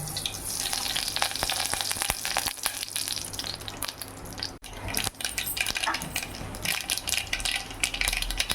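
Mustard seeds sizzle and pop in hot oil for a dal tempering, a steady close-up frying hiss with crackling spatter throughout and a brief break midway.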